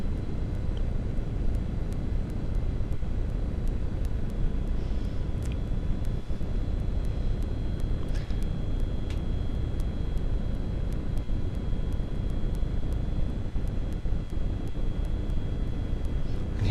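Steady wind and engine drone from a paramotor during landing, heard from the pilot's position, with broadband rushing noise filling the whole stretch and no talk.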